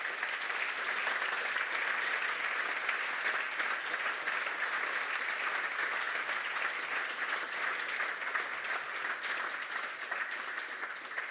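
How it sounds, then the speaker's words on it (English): Steady round of applause from a conference audience in a large hall for the event's gold sponsors, even and continuous from start to finish at a moderate distance, with no talking. "Please give them a whole round of applause"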